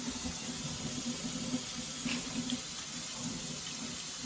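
Lukewarm tap water runs from a faucet into a sink for handwashing, a steady, quiet splashing stream throughout with no talk.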